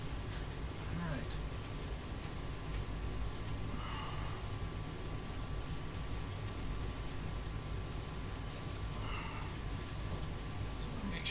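Air-fed spray gun misting coating across the inside of a Ford Ranger truck cab, a steady dense hiss running throughout with faint intermittent clicks and a voice talking over it.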